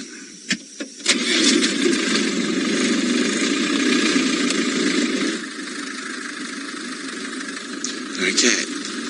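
A safari vehicle's engine cranks and catches after a couple of sharp clicks, then settles into a steady mid-pitched idle that drops to a quieter, lower rumble partway through.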